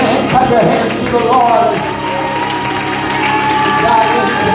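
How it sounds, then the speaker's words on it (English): Church congregation at a Wednesday night service clapping hands and cheering in worship, a dense, loud wash of claps and raised voices continuing steadily, with sustained music tones underneath. "Clap your hands to the"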